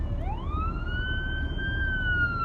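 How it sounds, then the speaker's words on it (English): A fire truck siren wails from a distance, its tone rising then holding steady over a low rumble of traffic and ambient noise. "that's a big old fire truck"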